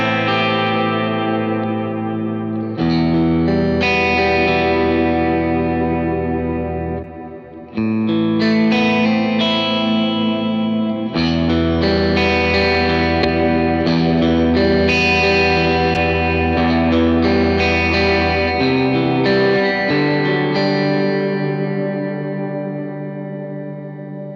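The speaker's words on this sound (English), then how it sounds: "Let's add like the big reverb." An electric guitar plays through a Matchless C-30 valve amp with a big reverb added, sustained chords ringing out in long washes that overlap and fade, with a brief dip between phrases.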